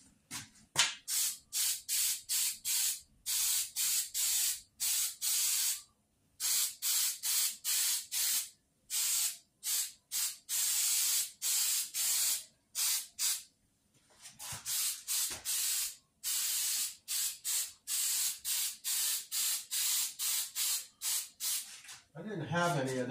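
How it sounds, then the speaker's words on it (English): A spray can of galvanized paint is sprayed onto a welded metal fence in a long series of short hissing bursts, loud and close, with brief pauses between them. "shake this thing up real quick. And we'll get this sprayed up"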